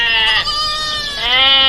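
A goat bleats loudly and close up, two quavering, nasal cries running back to back with no other sound around them.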